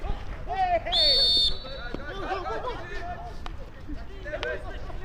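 A referee blows one loud, shrill whistle blast lasting about half a second during a South African men's versus under-21 field hockey match, heard over steady crowd babble and a commentator's voice.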